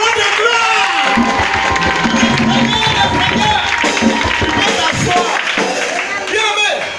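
A church congregation at a French-language worship service applauding and cheering, a dense wash of clapping and crowd voices with a preacher's amplified voice riding over it throughout.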